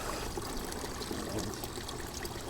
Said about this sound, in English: Still dripping, but it's not spraying.